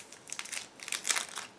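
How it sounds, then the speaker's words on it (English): A small plastic bag of decals from an Ebbro 1/20 Lotus Type 91 model car kit crinkles close by in several quick, uneven bursts of rustling, with no talking. "Next we have small plastic bag with different small decals."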